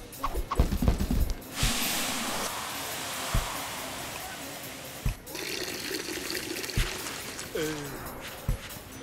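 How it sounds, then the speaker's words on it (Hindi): Water pours and splashes into flour being mixed, a continuous rushing trickle broken by sharp knocks and clatters, with voices speaking at moments. "आटा मिलाओ पानी के साथ"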